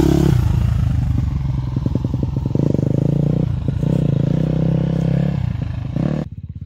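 A dirt bike, KTM or Yamaha, rides through autumn woods with a steady, close engine drone, uneven revving and clattering over rough ground, cutting off abruptly near the end.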